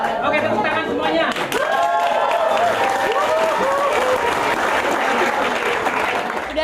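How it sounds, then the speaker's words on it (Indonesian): Sustained audience applause fills the room at a political vote-count gathering, steady and loud throughout, with harmonic whistles or voices rising above the clapping. "Oke, tepuk tangan semuanya."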